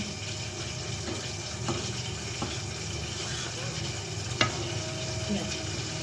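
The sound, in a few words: mixing Buldak carbonara noodles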